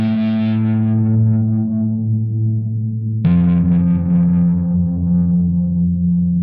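A synthesizer's sustained ping piano preset plays through a guitar amp: two long, distorted held notes, the second struck partway through, ringing loud and alone.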